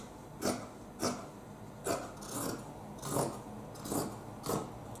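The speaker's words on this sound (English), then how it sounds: "What I'm going to do next is cut open the side seams" Scissors cutting through a cotton T-shirt's side seams, a series of about seven short rasping snips at a steady rhythm, close and fairly quiet with no talking.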